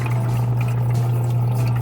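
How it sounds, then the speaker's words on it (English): Water runs steadily into a TopDeep ice machine, with a constant low electrical hum underneath and no talking. "Water running."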